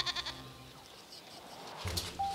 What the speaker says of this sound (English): After dawn, Kalgeni drives his flock of sheep out to graze.